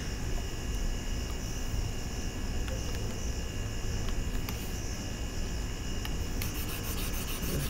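Steady abrasive rubbing across a board, a dense continuous scrubbing noise that stays loud and close from start to finish, with a few faint clicks and no voices.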